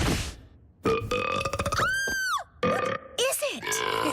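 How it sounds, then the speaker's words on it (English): Cartoon burps pour out of a magic box of burps in a string of loud, croaking belches with warbling, bubbly pitch swoops, close and clear, with gaps between bursts. "It seems to be a box of burps"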